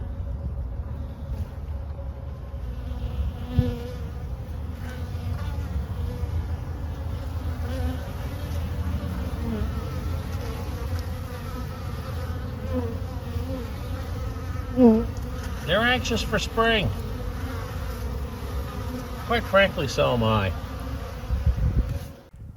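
Honeybees buzz around the outside of their hive on a cold late-winter or early-spring day, a steady close hum with individual bees swelling louder as they pass, while someone talks throughout.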